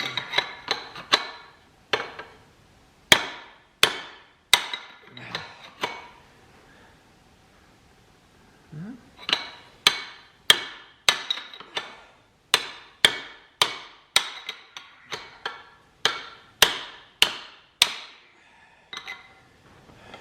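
A Ford 7700 tractor spindle bushing is hammered out while clamped in a vise. Sharp metallic blows ring out in quick, uneven bursts of several strikes. They pause for a few seconds midway, then resume in a long, steady series, loud and close.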